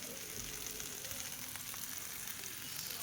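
Water poured into a pan of sizzling spices with potato and pointed gourd for a rohu fish curry, giving a steady, quiet hiss and crackle of frying with no speech.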